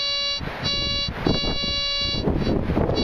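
A C.Scope CS4PI metal detector on wet sand signals a target with a loud, steady electronic tone that wavers and pulses a few times. It is close and sounds alone.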